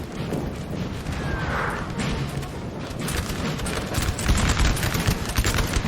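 Saxon artillery and massed musket fire in a Napoleon Total War battle, a dense continuous roar of rolling volleys and booms that grows heavier toward the end.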